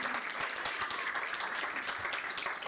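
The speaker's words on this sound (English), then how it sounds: "Can we give her a round of applause?" An audience at a school district governing board meeting applauds with dense, sustained clapping that fills the room evenly for a few seconds. No one talks over it.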